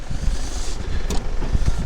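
A car engine runs steadily at a low rumble, close by, with a few brief clunks as people get into the vehicle in snowy Sonmarg, Kashmir.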